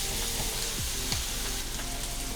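Broken-up pork fries in a pan for chili-stuffed peppers, giving a continuous close sizzle with a couple of brief scraping stirs and no speech.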